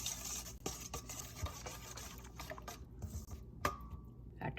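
Flour being mixed with sesame seeds and cinnamon for a sweet jaggery roti, giving a steady close scraping and stirring texture with soft clicks of a spoon against the bowl.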